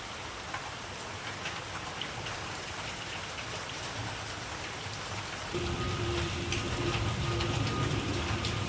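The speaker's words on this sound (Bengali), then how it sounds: "বিশাল বৃষ্টি" Heavy rain pours steadily with a dense hiss, growing louder and fuller partway through as a low rumble joins in.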